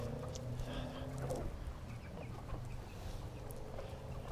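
Chickens cluck faintly in a pen, with scattered short calls over a steady low background hum and no clear talk.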